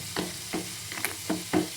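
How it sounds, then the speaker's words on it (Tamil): Masala spices sizzle and fry in sesame oil, with a low steady crackle broken by several soft stirring scrapes in a quick, uneven rhythm, quiet and close. "நல்லெண்ணெய் ஊற்றி நல்லா வறுக்கும் போது வாசமே வேறையாக இருக்கும்"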